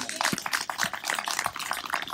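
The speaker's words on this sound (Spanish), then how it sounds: "Démosle fuertes palmas al Señor, hermano." A church congregation claps hands together in quick, uneven bursts, a dense patter of many palms filling the room with no voices over it.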